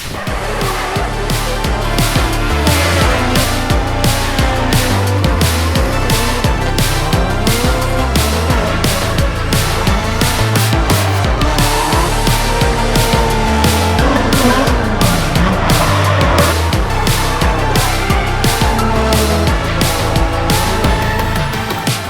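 Drift cars run at Meihan Sportsland in Japan's Kansai region during a drift competition, a loud, unbroken roar of revving engines with pulsing rhythmic bursts and squealing tires for the entire stretch.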